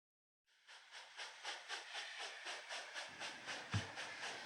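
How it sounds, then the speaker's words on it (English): An HO scale model drag freight train rolls slowly around a town layout with a steady hiss and a rhythmic clickety-clack of wheels over rail joints, plus a single sharper knock near the end. "That same drag freight we saw earlier is slowly making its way around the back alleys of the town of Barnes."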